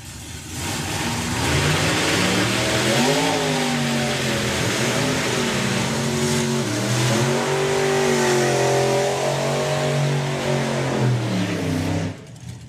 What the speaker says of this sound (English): A 32 5-window and a 34 Hemi coupe. Both supercharged.